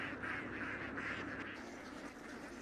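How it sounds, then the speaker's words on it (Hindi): Ducks quacking steadily in a flooded rice paddy field in Thailand, a dense chorus of overlapping calls at moderate distance, continuous and fairly quiet. "अपीवात की बतखों के लिए यहाँ खाने के लिए बहुत कुछ है, जैसे कि चेरी स्नेल, खरपतवार और दूसरे कीड़े"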